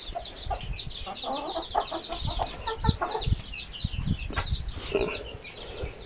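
Chickens cluck and murmur in a coop, with scattered soft calls and rustling close by, a steady busy farmyard chatter throughout.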